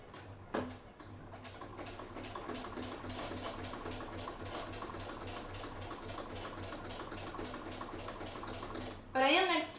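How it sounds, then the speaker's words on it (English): A sewing machine runs steadily with rapid rhythmic clatter, close by; a brief voice sounds at the start and another voice near the end. "You might be hearing the sewing machine."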